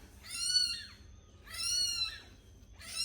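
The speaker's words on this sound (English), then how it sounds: "we are giving away cats if you want cats" Cats meow in a home in Ghana, with two clear drawn-out meows and the start of a third, fairly close and separated by short pauses over a faint background hum.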